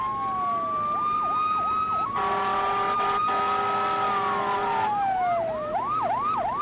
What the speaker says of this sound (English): And about that time, you could hear the sirens going off.